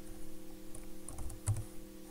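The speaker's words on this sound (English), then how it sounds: "as I start typing horiz" Soft, quiet taps of typing on a computer keyboard, a few scattered keystrokes over a steady low electrical hum in an indoor lecture setting.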